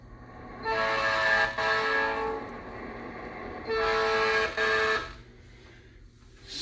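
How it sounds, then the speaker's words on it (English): An HO scale model train controller plays a recorded train horn sound effect: two loud, buzzy horn blasts, each with a brief break, separated by a quiet pause, electronic and close. "Or a train sound."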